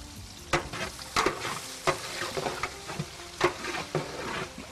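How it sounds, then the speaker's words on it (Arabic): Onion sautéing in a pan sizzles steadily up close, broken by repeated louder stirring scrapes and clatters of a utensil. "اول احمس البصل."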